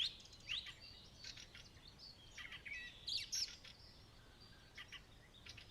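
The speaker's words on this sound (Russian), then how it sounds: "растут и интенсивность, и эмоциональная насыщенность птичьих песен" Birds sing at dawn, with faint, distant chirps and short trilling phrases scattered over a quiet outdoor background.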